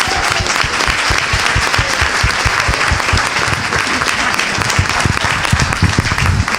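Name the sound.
audience round of applause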